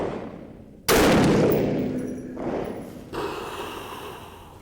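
A .350 Legend rifle firing a 170 grain soft point handload over 25.1 grains of H110 gives one sharp, loud shot on a range, followed by a long decaying echo and a fainter secondary report.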